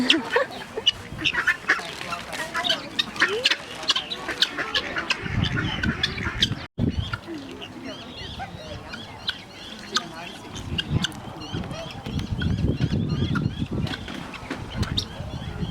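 Ducks at a winery pond quack repeatedly in irregular bursts, close and fairly loud, while people chat over them.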